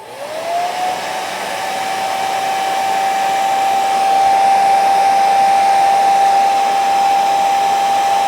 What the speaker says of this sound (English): I'm just going to try the hair dryer on low.